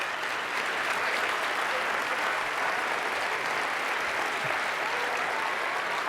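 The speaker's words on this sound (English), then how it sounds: "you give everybody a very warm round of applause" A hall audience gives a warm, sustained round of applause after a science show about music and colors, with a thick, even wash of clapping holding steady for the full six seconds.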